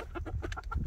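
Several roosters and hens cluck in short, closely spaced calls from a backyard silkie chicken coop, the bursts overlapping in an uneven rhythm close by.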